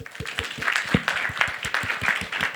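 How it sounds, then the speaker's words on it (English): Scattered applause from an audience at a youth banking panel event, with uneven claps and a few louder strikes, moderately close and without talk over it. "All right, a round of applause."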